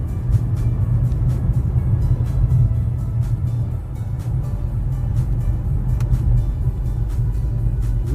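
A 2011 Cadillac CTS-4 V6 AWD coupe on a test drive, heard from inside as a steady low engine and road rumble that holds evenly throughout, with no talking.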